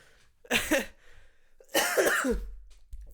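Two harsh coughing bursts, close up, the second longer and rougher, with a low rumble at the end; no talking.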